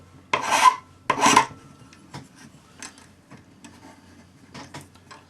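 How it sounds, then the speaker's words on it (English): A 6-inch number 2 cut flat hand file rasps against a jewelry piece at a bench peg: two strong, close strokes, then a few lighter scrapes and ticks in a quiet room. "Use the number 2 cut flat hand file, 6-inch flat hand file."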